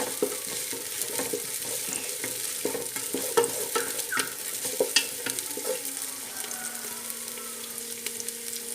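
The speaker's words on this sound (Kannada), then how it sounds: "ಮತ್ತೆ ನೀರುಳ್ಳಿ ಪಾಡ್ಗ, ಸರಿ ಫ್ರೈ ಮಾಡ್ಕೊಳ್ಳೋಣ ನಾವು." Onions fry in a pan with a steady crackling sizzle, broken by frequent scraping stirs and clinks of a spatula, fairly close and without talk.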